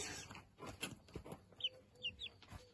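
Hens clucking in a henhouse under construction, with a run of soft, close, irregular clucks and a few brief higher squawks near the end; no talking.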